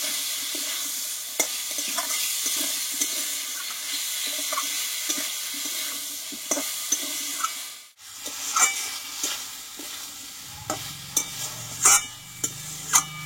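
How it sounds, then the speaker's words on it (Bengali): Chana dal with spices stir-fried over low heat for a patol curry, with a soft steady sizzle and repeated scraping stirs of a spoon against the pan, some sharper clinks near the end; no talking. "আমি ভালোভাবে অল্প আঁচে কষিয়ে নেব"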